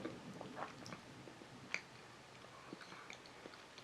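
María Tepoztlán vanilla chocolate is chewed close to the mic, giving faint, soft crunching and small moist clicks at an irregular pace over quiet room hiss.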